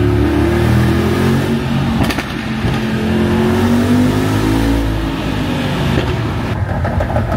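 A Brabus-tuned Mercedes G-Wagon G800 with a modified exhaust revs and pulls hard, its deep, loud engine and exhaust note rising and falling close by with a crackling blip partway through, heard alone.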